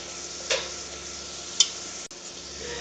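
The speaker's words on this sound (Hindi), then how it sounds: "ये डाल देंगे इसमें और इसको तलेंगे" Vegetables frying with the white parts of spring onions, a steady low sizzle broken by two brief stirring clinks and one sudden knock, with no talking.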